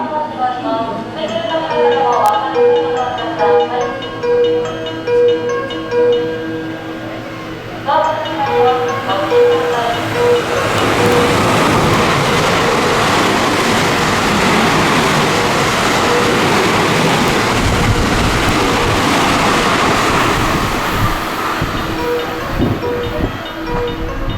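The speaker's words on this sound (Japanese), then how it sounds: "2番乗り場新快速電車が通過します" A JR West Biwako Line special rapid train sweeps through a station at speed, its loud, rising rush of wheels and rushing air filling the platform after a public-address voice speaks.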